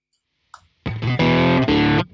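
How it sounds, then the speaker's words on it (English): An electric guitar plays through a distorted amp on a Kemper Profiler, a couple of loud, sustained crunchy chords after a short faint pick noise. "now it's amp distortion, and you placed it in front of the stack"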